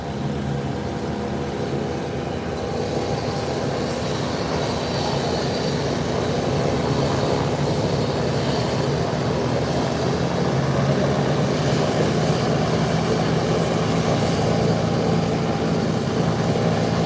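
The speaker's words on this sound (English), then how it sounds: "The Beechcraft 1900 engines are on." Turboprop engines of a Beechcraft 1900 idling on an airport apron before taxi, a loud continuous droning whine with propeller buzz, steady throughout with no voices.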